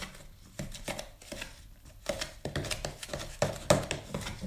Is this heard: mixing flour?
yes